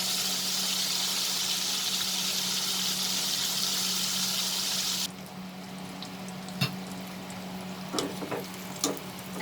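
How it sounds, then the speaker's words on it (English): Prawns frying in hot oil make a loud, dense sizzle that drops sharply halfway through to a quieter bubbling, with a few faint clinks and stirring taps. "Fry this till it becomes nice and golden in color."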